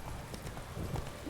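Hooves of a horse galloping in The Witcher 3, a quick clip-clop of close hoofbeats over a rainy background for about a second and a half.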